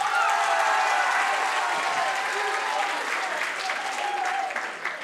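A crowd applauds in a comedy show, sustained loud clapping with faint cheering and a voice faintly audible underneath, tapering off near the end.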